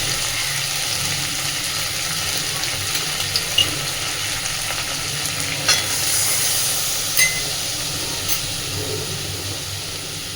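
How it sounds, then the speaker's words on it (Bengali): Spice paste for a cauliflower and prawn curry sizzles steadily in a pan after a splash of water, with a broad, hissing fry, occasional stirring scrapes and small pops over about ten seconds, no talk. "মশলাটা যাতে পুড়ে না যায়, মশলার বাটিটা দিয়ে সামান্য একটু জল দিচ্ছি।"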